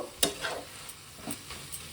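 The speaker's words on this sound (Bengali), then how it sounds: "এইবার আমি এইভাবে এটাকে একটু ভালো করে নেড়ে নেড়ে আর নামিয়ে নেবো।" Scallion and dried shrimp curry sizzles in a pan while it is stirred, with a few clear scrapes of the spoon over a soft, steady frying hiss.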